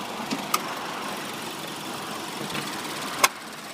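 A Subaru BRZ boxer engine idles steadily at low volume, a soft continuous hum with a couple of faint clicks, and no talking.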